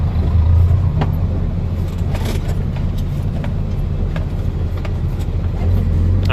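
A work truck accelerates in second gear with a loud, close, steady low engine drone and rumble, plus faint rattles.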